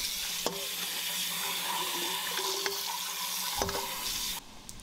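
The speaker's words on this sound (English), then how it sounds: "I'm just going to rinse them here in a colander, making sure to remove all that excess starch." Running water pours steadily over shredded homegrown potatoes in a colander, a continuous close wash with faint clinks and knocks, stopping abruptly near the end.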